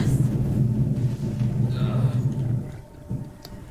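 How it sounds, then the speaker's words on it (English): Thunder from a lightning storm, picked up through a gamer's microphone: a low rolling rumble that swells and fades over a few seconds, fairly loud and heard alone under game sound. "That is some aggressive lightning right there"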